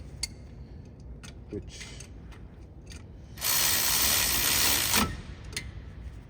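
A ratchet clicks in short bursts while turning a bolt on a Ford Transit 250/350 during a front brake pad job, then a loud hiss of spray fills about a second and a half before clicking resumes.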